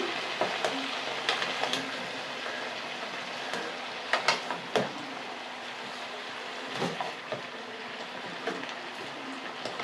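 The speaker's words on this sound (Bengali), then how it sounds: "এবার এটাকে একটু নেড়ে দিতে হবে।" Bottle gourd greens being stirred in a pan as they fry, giving a steady low sizzle with scattered scraping clicks from the spatula at a moderate level, with no voices.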